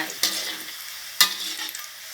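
Boiled eggs deep fry to golden in hot, spattering oil for son-in-law eggs, producing a continuous close hiss with two loud popping bursts of splatter.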